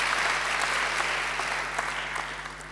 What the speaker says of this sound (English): I think Stuart deserves another great round of applause.